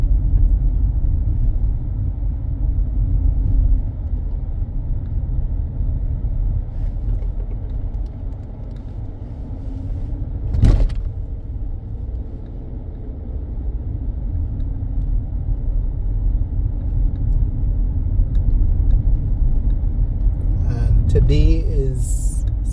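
A car rolls through a quiet rural parish in St. Andrew, Barbados, its steady low engine and road rumble continuous throughout, with a single sharp bump partway and a brief passing sound near the end.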